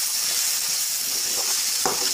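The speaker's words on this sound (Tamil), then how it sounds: "கொஞ்சோண்டு மஞ்சத்தூள், கரம் மசாலா தூள் சேர்த்து விட்டு கொஞ்சம் நல்லா கிளறி விட்டுருங்க" Turmeric and garam masala being stirred into tomatoes in a pan for kothu parotta, with a steady sizzling hiss and a few soft scraping strokes, one slightly louder near the end.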